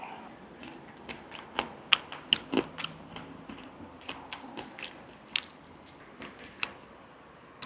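Someone bites and chews pale, hard chips from a fish and chips meal, chips that are soft inside with a chewy outer skin. About a dozen sharp crunchy bites come close up in an irregular rhythm, with no speech.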